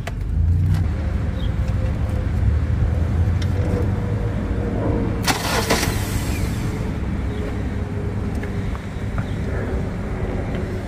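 An abandoned car's engine cranks on a hardwired starter, a steady low churning drone that runs continuously, loud and close, with a brief sharper clatter midway and no talk over it.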